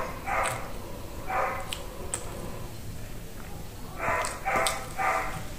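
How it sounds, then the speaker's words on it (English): A dog barks in short bursts during a Nigerian palm oil rice meal, the barks moderately loud and spaced out, a few close together near the end. "Do not mind the barking dog."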